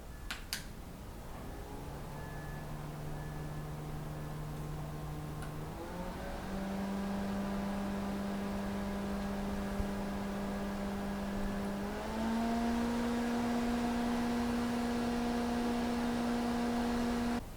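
An iFan portable fan hums continuously nearby, its motor tone jumping higher twice as the speed is raised, ending on a louder, brighter whine.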